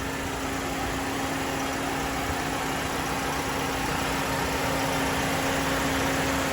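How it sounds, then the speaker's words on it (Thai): A Toyota Yaris Ativ 1.2 engine runs steadily and loudly up close while accelerating, holding a constant rumbling drone with a faint whine and no clear rise or fall in pitch. "ฟังเสียงเครื่องกันดีกว่าเครื่องกำลังเร่งเลย"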